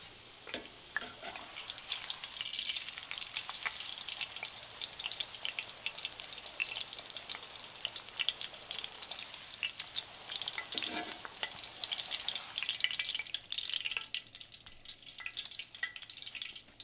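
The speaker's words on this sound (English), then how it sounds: "your corn tortilla into the hot oil and you're gonna fry for about 10 to 15 seconds" Corn tortillas frying in hot oil for enchiladas rojas, a dense crackling sizzle that runs steadily for a long stretch, with occasional soft knocks of handling, before easing off near the end.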